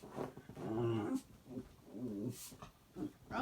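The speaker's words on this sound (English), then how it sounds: "sorry about dog noises in the background now." An indoor dog on a bed makes low growls and whimpering whines in several drawn-out bursts, fairly close and moderately loud, with no talking.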